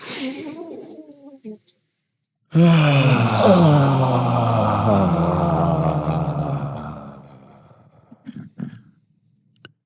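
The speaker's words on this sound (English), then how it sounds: "One more, biggest breath yet." A person draws a long, deep, audible breath and releases it in a loud, drawn-out exhale during a guided breathing exercise, followed by quieter breathy sounds.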